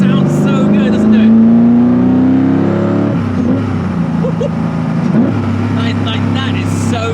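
Koenigsegg CCX supercar with a manual gearbox revving hard, its engine note climbing then dropping sharply through downshifts, loud and close from the cabin, with someone talking over it.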